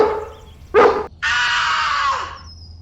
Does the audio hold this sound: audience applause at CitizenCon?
no